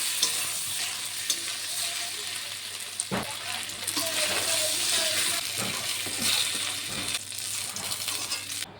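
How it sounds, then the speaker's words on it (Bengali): Brinjal (eggplant) slices frying in oil over a high gas flame: a steady, dense sizzle with occasional clinks and scrapes of a spatula against the pan. "গ্যাসটিকে একটু হাই ফ্লেমে দিয়ে বেগুনটি ভাজতে হবে"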